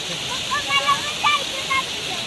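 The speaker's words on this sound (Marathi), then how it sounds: "इथं धबधबा छान पैकी मस्त." Steady broadband rush of a waterfall at Khadakwasla Dam fills the clip, with a few faint higher chirps or voices briefly rising above it.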